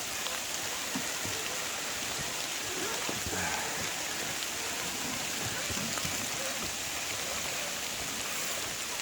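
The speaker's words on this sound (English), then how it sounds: "It is raining like a son of a gun." Heavy rain falls steadily on a rocky trail, a dense continuous hiss of drops with no breaks, fairly quiet and even throughout with faint scattered patters.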